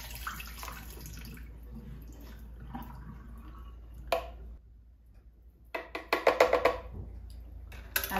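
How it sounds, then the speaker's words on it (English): Whitish wash water drains off homemade butter into a kitchen sink, a faint trickle that breaks into close, busier splashing near the end. "at this point I'll just drain it into the sink"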